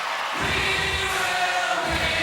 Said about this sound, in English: A capacity crowd at the Gladiator Arena.